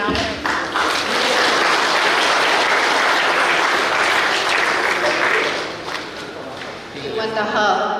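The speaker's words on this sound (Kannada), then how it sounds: "ಜೋರಾದ ಚಪ್ಪಾಳೆಯ ಮೂಲಕ ಎಲ್ಲರಿಗೂ ಕೂಡ ವಂದನೆಯನ್ನ ಸಲ್ಲಿಸ್ತಾ ಇದ್ದೇವೆ" Loud, sustained applause from a large audience at a retired police officers' welfare association silver jubilee function in Kodagu, dense clapping filling most of the stretch before easing slightly near the end.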